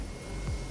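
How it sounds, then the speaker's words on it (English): Steady, fairly faint aircraft drone with a low rumble, heard while flying a Kodiak 100 over Fiji in Microsoft Flight Simulator multiplayer, where other planes fly nearby; no talk. "Yeah, because I feel like I hear other planes."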